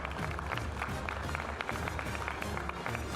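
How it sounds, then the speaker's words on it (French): Crowd applause at a Blonde d'Aquitaine cattle show ring in the Pyrénées, a dense, fairly distant patter of many hands clapping continuously over ambient hall noise. "Donc vous pouvez les applaudir très fort."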